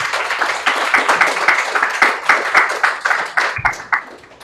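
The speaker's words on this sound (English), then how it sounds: "So, huge round of applause, please, for Joe Horner." Applause from a live audience at a content creators' meetup event, a crisp, rapid run of individual claps from a modest crowd, close and fairly loud, tapering off at the end.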